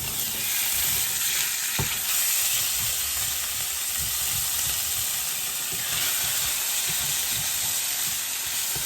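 Confit sizzling loudly in a pan on a stove at medium heat during bistro steak cooking, a dense continuous hiss of frying fat, close and without talk.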